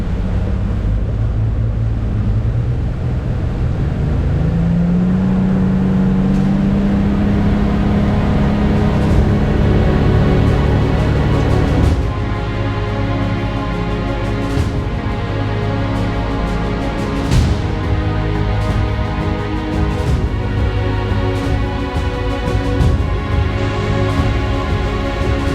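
Grady White boat with hurricane damage, its engines running rough and then revved up, a steady loud drone with rising pitch and bursts of throttle over wind noise, no talk.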